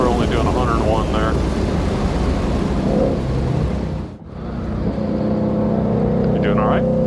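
A race car runs on the Ozarks International Raceway track, its engine droning loudly from inside the cabin. The throttle backs off briefly in the middle, then the engine picks up again while people talk over it.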